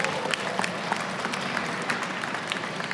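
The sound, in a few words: audience applause at a cage fighting event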